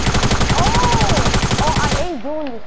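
Rapid automatic gunfire in the video game Fortnite, a loud fast rattle of shots that stops abruptly near the end, with brief voice sounds mixed in.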